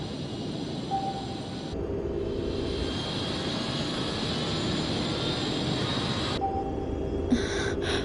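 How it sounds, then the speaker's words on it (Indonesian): A steady engine drone whose pitch and texture shift partway through, with a brief high whine at the start and end, continuous and fairly close. "Suara mesin berubah."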